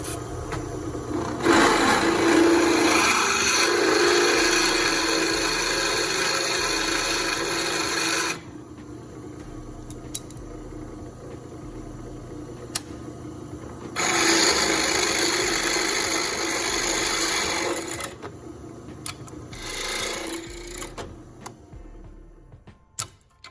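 A drill bit bores into metal during a rear sway bar install on a 1999-2006 Chevy GMT800 truck, producing two sustained grinding, rasping bursts of several seconds each separated by quieter pauses, loud and close.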